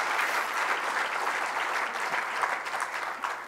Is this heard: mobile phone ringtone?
no